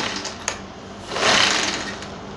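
Sewing machine winding thread onto a bobbin, a steady close whirring hum that swells louder midway and holds, with a small click near the start and no talking.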